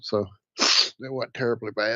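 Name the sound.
sneeze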